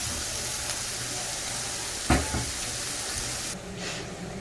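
Shrimp frying in a pan, a steady close sizzle with a sharp clatter near the midpoint and a brief quieter dip toward the end.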